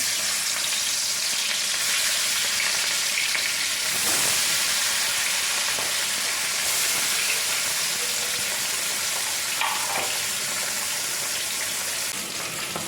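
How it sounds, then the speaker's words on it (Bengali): Pieces of katla fish fry in hot oil, a steady, loud, crackling sizzle that continues without a break throughout, with no voices. "তেলটা গরম হয়ে গেছে মাছগুলো ছেড়ে দিচ্ছি"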